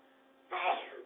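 A single sharp sneeze bursts out after a quiet stretch, close and fairly loud, then fades.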